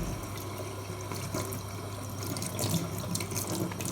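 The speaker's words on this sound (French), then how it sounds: "l'eau elle est chaude, du coup je change un peu parce qu'elle est trop chaude sinon" Warm tap water runs steadily into a sink while paint brushes are rinsed, a continuous close rushing splash with no talking.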